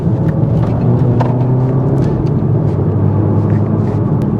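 VW Golf GTI Clubsport S (MK7) driving on an open 60 mph road, a steady low engine and road rumble heard from inside the car, constant and fairly loud with no talk.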